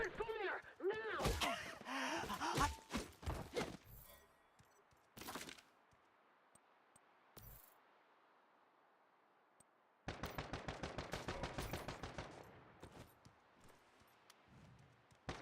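Bursts of automatic gunfire and single heavy shots in the video game Once Human, loud and close. Bursts come in clusters, with gaps between them and a rapid rattling volley near the end.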